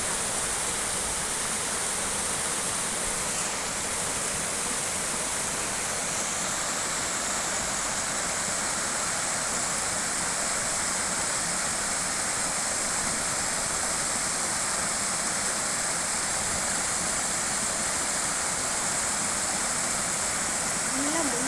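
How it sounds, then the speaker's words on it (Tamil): A waterfall pouring down a hill at Perambalur gives a loud, unbroken roar of rushing water that holds steady throughout, close by and filling the whole scene. "மலை மேலே தான் இவ்வளோ அழகாக தண்ணி கொட்டிட்டு"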